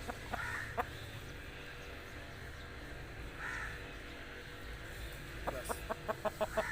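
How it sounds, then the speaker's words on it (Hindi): Aseel fighting rooster held in hand, giving short faint clucks and a quick run of soft repeated calls near the end, with a steady noisy background throughout. "ये आपके सामने पूरा मुर्गा अभी फ़िलहाल मौजूद है"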